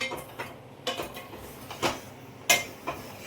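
Plates and utensils clink and clatter in a home kitchen while Maggi noodles are served late at night, with several sharp, close knocks spaced irregularly and no talk.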